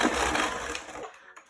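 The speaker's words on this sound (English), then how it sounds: "we're gonna whisk this until it is nice and creamy and combined." Eggs are whisked into pumpkin cake batter in a bowl, a steady busy scraping and whirring that runs for about a second, then stops abruptly and leaves a near-silent gap before a short noise at the end.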